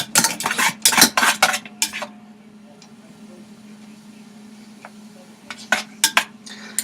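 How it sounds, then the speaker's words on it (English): Utensil scraping and clinking in a pot while mixing a concoction on a stove, bursts of rapid metallic stirring at the start and end around a quiet stretch of low hum. "I'm using the same utensil to mix this concoction"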